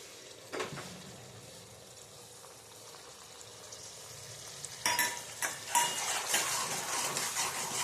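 Soaked masala with coriander-cumin powder being stirred into hot oil for a Kathiawadi green onion curry, a quiet scraping start followed by louder sizzling and clattering spoon-against-pan stirring in the second half, with no talking.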